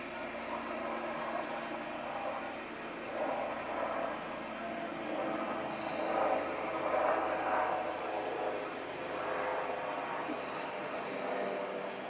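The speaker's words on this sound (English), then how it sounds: "Helicopter on the way." A helicopter passes overhead, its faint, steady droning rotor and engine noise lingering in the distance throughout, with no talking.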